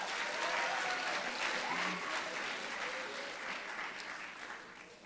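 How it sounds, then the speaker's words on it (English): Sustained applause from a graduation ceremony audience, dense and steady, fading slightly toward the end, with no voices standing out. "give them another round of applause"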